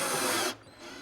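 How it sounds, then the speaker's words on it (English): A short burst of a power drill whirring at high speed while drilling pilot holes, stopping abruptly after half a second. "I'll drill pilot holes and attach it with screws."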